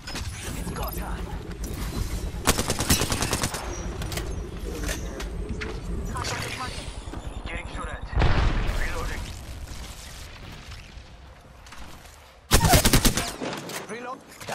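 Rapid bursts of automatic gunfire and charge-rifle shots in a first-person shooter, loud, repeated volleys with mechanical clatter between them, over speech.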